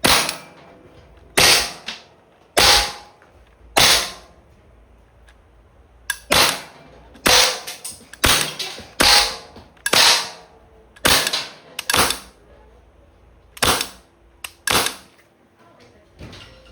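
Umarex Glock 17 Gen 5 .177 caliber airgun fires about fifteen sharp, loud cracks at irregular intervals, some in quick pairs, with quiet gaps between shots.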